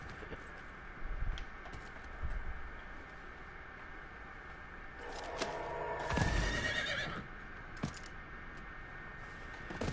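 Horse neighing in a video game, whinnies rising over a steady game background with hoof clip-clop, the loudest call around the middle, no talk.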